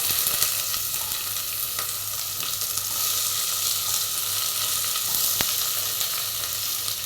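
Chopped onion sizzles and fries in a pan of hot oil while potato kuruma is being made, a steady dense hiss running evenly throughout with a few faint clinks and no talking.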